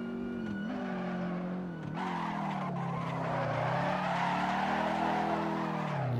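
Alfa Romeo Giulietta Spider engine in Assetto Corsa racing at Donington Park 1938, revs rising and falling through gear changes with a brief dip, loud and close, accompanied by tire squeal and skidding.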